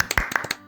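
A short burst of a few hand claps, close and uneven, giving a brief round of applause with no voices over it.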